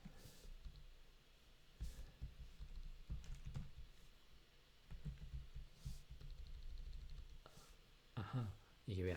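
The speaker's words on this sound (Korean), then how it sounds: "그래서 S 누르고 탭을 누르면 이렇게 파일들이 뜨는데" A few faint computer keyboard key presses, S and then Tab, click softly beneath speech.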